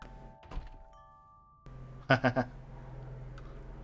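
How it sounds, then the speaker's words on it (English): A two-tone doorbell chime in the video game Vampire: The Masquerade – Swansong sounds, followed by a few quick thuds against a low background hum. "Never noticed that doorbell."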